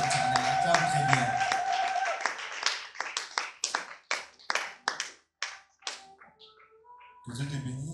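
A church congregation claps loudly in a rapid burst that breaks into a series of separate, spaced claps, with a voice and other tonal sound at the start and end.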